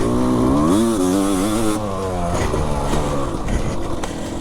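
A motorcycle at racing speed on a track revs hard, its engine pitch wavering and climbing through gears, then dropping lower as it passes; loud and close, with no talk over it.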